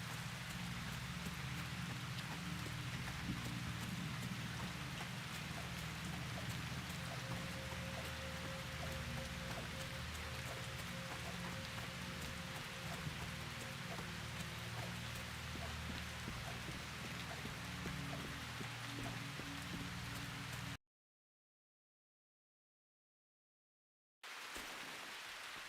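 Steady, dense rain falls in a video game, a constant close hiss of drops with no pauses until a brief silent gap near the end.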